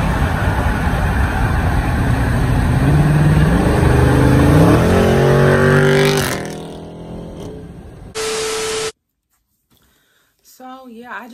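A Dodge Charger Scat Pack revs hard and rises in pitch while sliding in a parking lot, then the engine falls away. A short beep and brief bits of talk follow.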